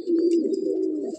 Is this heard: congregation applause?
no